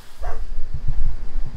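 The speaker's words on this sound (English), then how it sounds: "I had to shut it because of dogs barking" Dogs bark in short bursts in the background over a low rumbling noise, a few muffled woofs spread across a couple of seconds.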